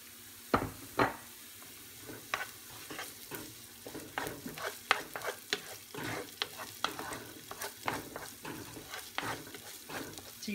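Onion stir-frying in a pan with fresh garlic and ginger: a soft sizzle with repeated sharp scraping and clinking stir strokes, irregularly spaced, fairly quiet and close, no speech.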